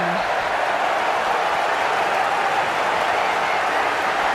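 A packed stadium crowd at a one-day cricket match between Australia and England roars continuously, a loud, dense wash of cheering and clapping with no break.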